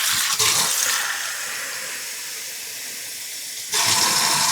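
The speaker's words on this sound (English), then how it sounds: "to that I'm gonna add 2 cups of water" Two cups of water poured over uncooked, unrinsed rice in a pot, a steady splashing stream that runs for a few seconds, eases off, then comes back loud for the second cup, close by with no voices.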